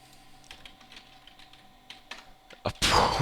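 Computer keyboard typing in a series of quick, uneven keystrokes at close range, ending in a louder burst of clatter.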